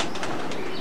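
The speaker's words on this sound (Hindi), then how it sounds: "अब आप देख लें कि ये कबूतर उड़ के बैठे हैं।" Pigeons close by give a soft coo with a brief flutter of wings, one short burst of bird sound with no one speaking.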